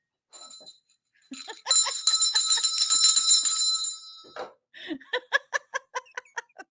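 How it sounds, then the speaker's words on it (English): A bell rings loudly and steadily for about two seconds with a bright, sustained ringing tone, followed by a series of short, evenly spaced sharp strikes; there are scattered brief vocal sounds before it. "Where's my fucking bell?"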